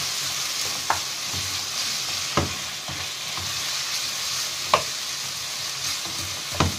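Chopped onion sautéing in butter in a pan, a steady broadband sizzle with occasional sharper clicks and scrapes of a utensil stirring, close and continuous without any talking.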